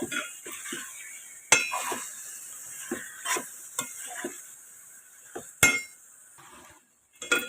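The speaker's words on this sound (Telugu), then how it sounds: "ఈ చికెన్ అంతా కలిసే విధంగా కలయబెట్టుకోవాలి" Marinated chicken for biryani is stirred in a pan, with repeated scraping strokes and a few sharp metal clinks of the spoon against the pan over a light sizzle, close up and without talk.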